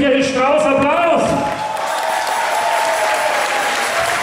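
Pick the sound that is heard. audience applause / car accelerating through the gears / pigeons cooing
audience applause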